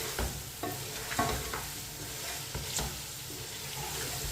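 Spices frying in a pot for beef pulao give a steady close sizzle, broken by several clanks and scrapes of a spoon stirring against the metal, with no talking over it.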